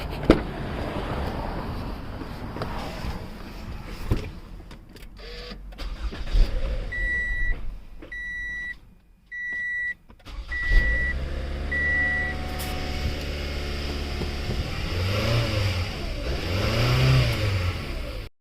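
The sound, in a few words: Toyota car engine starting and revving after throttle body replacement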